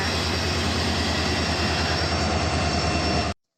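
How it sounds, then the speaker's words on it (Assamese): A train pulling into Chilapathar station at night, a loud continuous rumbling roar with a steady hum that holds evenly before cutting off abruptly. "এইফালে আহি গ'ল আমাৰ এতিয়া ট্ৰেইন"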